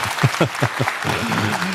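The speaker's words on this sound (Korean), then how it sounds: "네, 박수 한번 하실까요?" A live policy talk audience gives a short burst of several distinct claps close by, then a voice begins speaking as the clapping stops.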